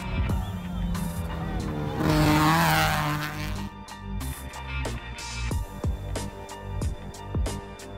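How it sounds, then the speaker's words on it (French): A rally race car at full speed on a narrow desert road sweeps past with a rising engine roar, followed by sharp clattering and gravel impacts, heard at moderate distance without talk. "une voiture qui était en pleine course de rallye et qui allait à toute vitesse"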